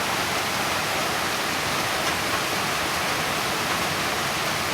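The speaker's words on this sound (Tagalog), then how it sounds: "Sobrang lakas na naman ng ulan. Grabing nagaslas na naman ang tubig sa sapa, oh." Heavy rain with a swollen creek rushing hard, a dense steady roar of water and downpour that stays loud and unbroken throughout, with no voices.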